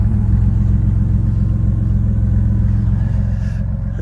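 A 1987 Camaro with a 1-into-2 exhaust, freshly started after sitting for a month in cold weather, idles loud and close with a steady deep rumbling throb through the pipes.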